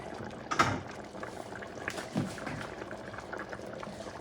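Covered pot of Puerto Rican chicken rice simmering on medium heat, a soft continuous bubbling and hiss with a few louder pops, close and quiet, with no talking.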